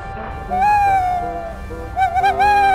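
An owl hoots loudly and close by in long, wavering calls in a Thomas and Friends cartoon, one drawn-out hoot followed by a pause and then a cluster of quicker hoots.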